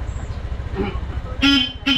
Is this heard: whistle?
no